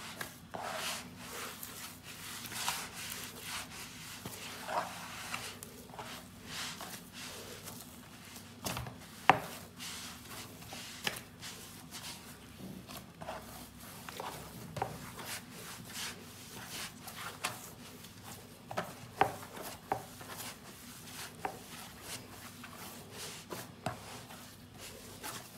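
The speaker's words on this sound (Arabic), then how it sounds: "غادي نجمعها ونعكها مزيان" Dough for small stuffed batbout bread being gathered and kneaded by hand with water, making soft, steady rubbing and slapping sounds with occasional sharper pats, close and fairly quiet.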